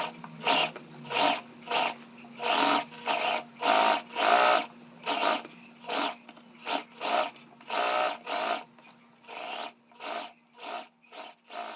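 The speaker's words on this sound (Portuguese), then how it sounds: "rebatendo a costura de união" A sewing machine topstitches the joining seam of a dress shirt in a string of short, close bursts separated by brief pauses, with a faint steady motor hum running underneath.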